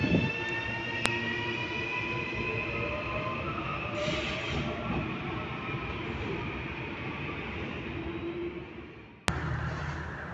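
Metro train running through Jaboatão dos Guararapes, a steady loud rumble of the wheels and cars on the rails for the whole stretch, with a couple of sharp clicks and a brief squeal-like tone near the start.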